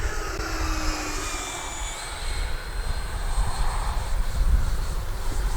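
E-flite Viper 90mm electric ducted-fan RC jet cruising at half throttle overhead, a steady whooshing whine that shifts in pitch as it passes and swells louder toward the end, outdoors with no talking.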